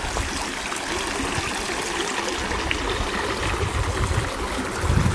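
Water flows steadily with a constant close rushing, trickling sound outdoors at the edge of a small wood on private land, with no pauses.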